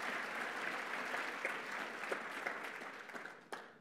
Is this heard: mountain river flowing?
no